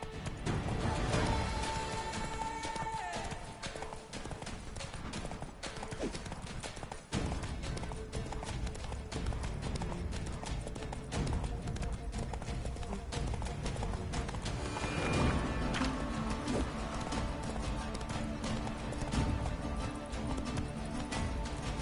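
Horse hooves galloping steadily in Witcher 3 while riding through Toussaint, a continuous loud clip-clop rhythm over ambient game music, with a brief dip and occasional whinny-like tones and a few spoken words.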